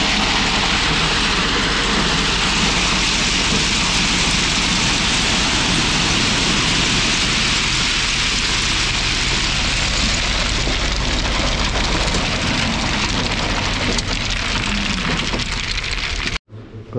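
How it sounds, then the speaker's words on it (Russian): Rain falling outdoors, a loud dense continuous hiss of heavy drops on surfaces that holds steady throughout before cutting off abruptly at the end. "Короче, дождик все помешал, на завтра ставим."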